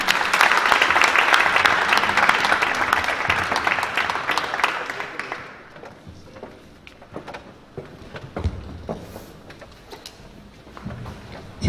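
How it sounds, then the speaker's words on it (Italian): Audience applause at a literary prize event in San Giovanni in Fiore, a dense burst of clapping for about five seconds that quickly thins to scattered claps and room noise. "Un applauso."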